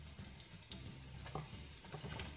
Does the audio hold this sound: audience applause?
no